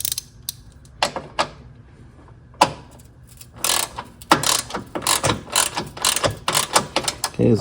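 A ratchet tightens the bolt on a Honda V6 battery terminal extension mounted against the frame, giving bursts of rapid clicking that come and go, then settle into a steady run of close, fairly loud clicks.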